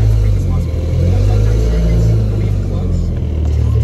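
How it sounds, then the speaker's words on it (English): A turbocharged Honda S2000 making about 490 wheel horsepower drives off, with a loud, close, steady low engine rumble and drone as someone talks over it inside the car. "the car's warmed up, let's go for a spin."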